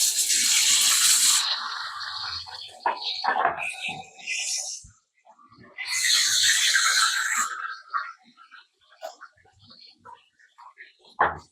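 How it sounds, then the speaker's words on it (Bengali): Pieces of katla fish fry lightly in hot oil for a creamy, tangy doi katla, with loud sizzling bursts at the start and again midway and a voice talking in the quieter stretches between. "এবারে আমরা মাছগুলোকে হালকা করে ভেজে নেব।"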